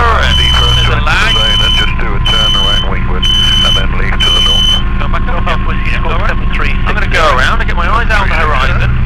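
A helicopter cockpit warning horn sounds in repeated short bursts, about five, over a steady low engine and rotor drone, while people talk over the intercom.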